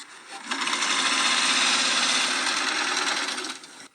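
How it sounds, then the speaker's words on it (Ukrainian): A pensioner volunteer's own sewing machine, brought from home, runs for about three seconds with a steady, fairly loud whirring hum, then stops. "Пенсіонерці навіть передали з дому її швейну машинку, бо на ручні працювалося значно повільніше."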